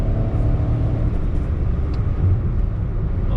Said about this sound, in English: I'm changing the gear only after lifting off the leg from the throttle pedal, so that the gear shift is even more smoother